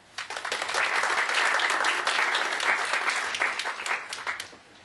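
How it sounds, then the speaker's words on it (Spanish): Audience applause welcomes a speaker at a legal panel, swelling quickly into dense, sustained clapping that holds steady before tapering off into a few final claps. "vamos a recibirlo con un aplauso"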